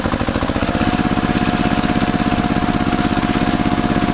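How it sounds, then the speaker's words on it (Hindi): A big tractor engine runs on a farm on the way to a mango orchard, a loud, close, steady chugging with a fast rhythmic thump and a clattering mechanical edge throughout. "तो गाइस हमारा बड़ा ट्रैक्टर तो चल दिया है"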